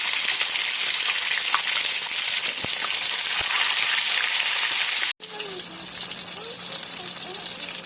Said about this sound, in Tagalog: Magpiprito na ako ng isda.